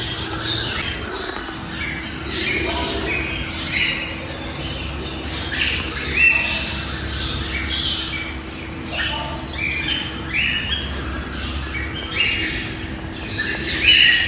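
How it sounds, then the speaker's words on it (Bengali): Caged birds at Kathgola Bagan in Murshidabad, including Chinese and Lady Amherst's pheasants, squawk and call continuously in a dense, overlapping chorus of chirps and cries, fairly close, over a steady low background hum. "এখানে যতগুলো পাখি দেখতে পাচ্ছি প্রত্যেকটা পাখি কিন্তু চিৎকার করছে"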